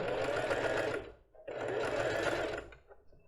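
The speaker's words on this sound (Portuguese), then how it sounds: "baixei o pezinho, começo a costurar, seguro aqui, dou um retrocesso e continuo bem na beirada" A sewing machine stitches lace fabric for a basic bra in two steady whirring runs with a short pause between them, close and fairly loud, then trails off as it slows.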